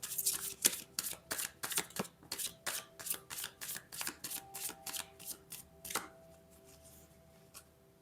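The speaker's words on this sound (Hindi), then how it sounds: "Last shuffle." A deck of tarot cards is riffled and shuffled close by in a quick, regular series of crisp papery bursts that taper off into a few final taps.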